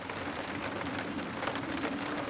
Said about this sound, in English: the rain decided to come back for today, and it's been raining off and on